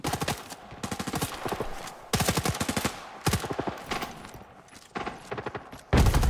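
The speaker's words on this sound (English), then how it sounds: "Why are you shooting at me?" Rapid automatic gunfire in Arena Breakout, loud bursts of shots in quick rhythm separated by short pauses, with a final sharp burst at the end.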